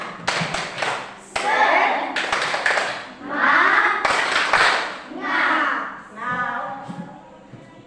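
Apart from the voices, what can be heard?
group rhythmic clapping game, tepuk semangat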